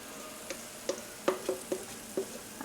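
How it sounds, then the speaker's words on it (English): Cornbread batter spooned into a hot cast iron pan, heard as a faint, quiet sizzle broken by several soft clicks and scrapes of a utensil against the pan. "I hope you guys can hear that little sizzle there."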